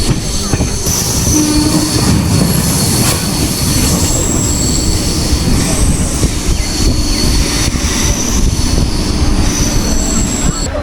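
A Haldia local train pulling into Santragachi station, with a loud continuous rumble of wheels and carriages and a high squeal of wheels on rail running throughout, close and steady.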